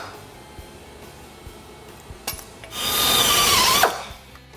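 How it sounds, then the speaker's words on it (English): A power drill bores out the rivets on a 1962 Ford Galaxie window trim piece, a loud high-pitched whine lasting about a second after a brief clack, with quiet workshop noise before and after. "I've got to do is drill this piece and this piece off"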